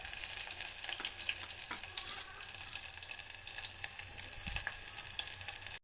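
Onions fry in hot oil for a tempering, a steady close crackling sizzle with scattered pops and light stirring, fairly quiet and continuous until an abrupt cut at the end.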